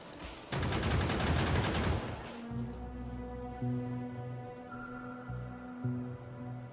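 Gun turrets in the video game Factorio fire a rapid burst of automatic shots for about a second and a half, then cut off, leaving low droning game tones behind.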